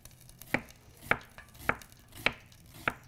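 A knife slices through onions on a cutting board, giving five evenly spaced, crisp chops close by in a quiet room.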